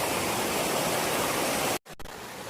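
Water rushes steadily over a flooded hiking trail on the Allegheny Trail, a loud, broad stream-like roar up close that cuts out abruptly for a moment near the end before resuming more faintly.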